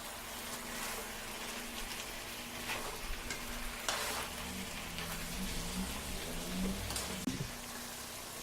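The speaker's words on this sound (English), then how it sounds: "Now stir fry this." Chicken biryani ingredients with turmeric powder stir-fried in a pan, soft continuous sizzling with scattered scraping and stirring clinks, fairly quiet and alone.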